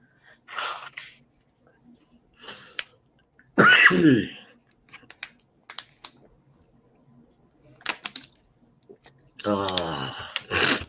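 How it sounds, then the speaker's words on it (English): Several harsh coughs and a sneeze-like burst come close to the microphone, spaced out between quiet moments, with light tapping sounds. "This cough so bad."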